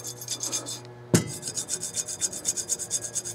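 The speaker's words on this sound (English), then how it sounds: "This penny will take it off without scratching the bluing, because copper is soft." A copper penny scrubs rust off the blued barrel of a vintage .22 rifle in quick, rhythmic rasping strokes, close and steady, with a short pause and a sharp knock partway through and a faint background hum.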